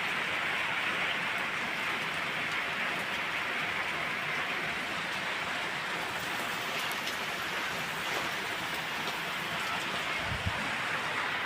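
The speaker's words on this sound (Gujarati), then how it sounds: "રણજીમાં તો કાલ સાંજથી ફૂલ વરસાદ ચાલુ છે" Heavy rain pelts a freshly filled pond in a constant, dense hiss of countless drops that holds steady and close for the whole stretch, with no voices and only a brief low thump near the end.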